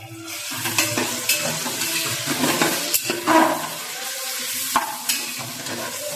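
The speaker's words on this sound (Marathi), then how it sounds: "टॅमॅटो फ्राय झालेला आहे." Onion and tomato fry in a pan with a continuous sizzle, punctuated by stirring scrapes and occasional utensil knocks against the pan.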